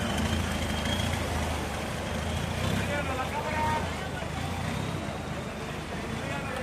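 Boat motors drone steadily through a Bangkok floating market, a constant low rumble mixed with water and crowd noise while people talk nearby.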